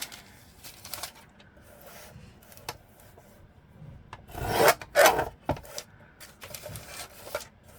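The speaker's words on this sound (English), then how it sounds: "I'm going to use my new decal edge trimmer." A decal edge trimmer rasping along the edge of a cut decal: faint scattered scrapes at first, then a cluster of louder, close-up scratchy strokes midway, fading back to quiet scraping.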